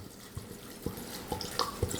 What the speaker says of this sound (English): we're going to add this entire bottle to our lemon and clementine skins